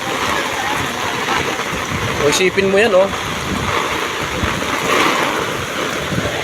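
Heavy rain and gusting wind sweep over a flooded street in the Pearl Drive area, a steady broadband roar of downpour and water throughout, with a voice speaking briefly in the middle.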